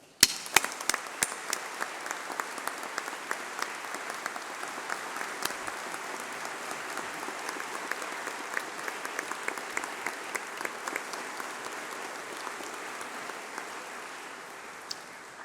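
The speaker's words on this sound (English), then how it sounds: "let's have a really loud round of applause for all those special people, your family, your friends, and your tutors" A large audience at a university graduation ceremony claps in sustained, even applause that starts with a few sharp claps and then holds steady as a dense patter, fading slightly at the end.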